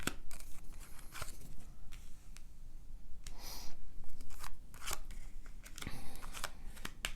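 Tarot cards pulled and slid from a deck, heard as close papery swishes, flicks and crisp rustles in irregular bursts with brief pauses between them.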